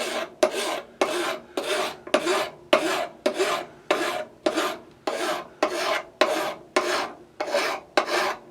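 Rhythmic rasping of a hand file takes excess metal and smeared silver solder off a small handmade mini slick part. There are about fourteen even strokes, close and clear, with short pauses between them and no talking.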